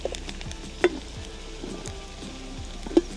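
Curry leaves sizzle in hot oil with a continuous close crackle and a few sharp pops standing out, and no one speaks.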